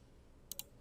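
Two quick, sharp computer mouse clicks about a tenth of a second apart, close and crisp against a quiet background while nodes are selected in bridge substructure modelling software.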